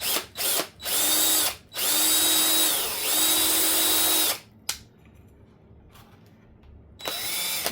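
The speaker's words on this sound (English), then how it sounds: "I am going to drill it first so I don't split any wood." Power drill boring into wood for a Halloween headstone: several loud whining bursts of the motor, rising and stopping, with a quiet gap before a final short burst.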